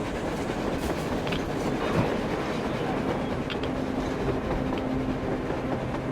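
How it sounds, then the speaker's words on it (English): A train rolls past on the surface in the post-apocalyptic shooter Metro Exodus, a steady rumble with rhythmic clickety-clack of wheels and faint metallic tones held at constant loudness throughout. "A train! A damn train on the surface!"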